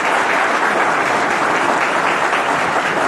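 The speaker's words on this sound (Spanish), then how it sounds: "Un aplauso." Applause from an audience at a public tribute ceremony in Maipú, loud and sustained clapping from a large crowd that holds steady throughout.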